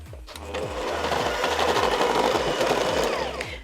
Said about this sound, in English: I'm going to beat all that together until my butter and sugar are really lovely and light and fluffy together